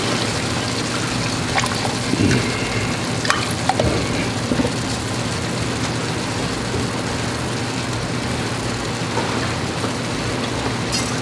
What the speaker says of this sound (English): then we're going to add